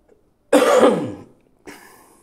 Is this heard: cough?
yes